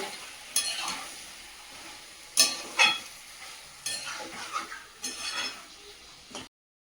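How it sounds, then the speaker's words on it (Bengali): Capsicum and meat sautéing in a pan over low gas: soft, steady sizzle with several sharp scraping stirs of a spatula, close and moderately loud, with no talking. "এর মধ্যে কেটে রাখা ক্যাপসিকাম গুলো দিয়ে দেব। গ্যাসটা কমিয়ে দিয়েছি, এইভাবে কষিয়ে নেব।"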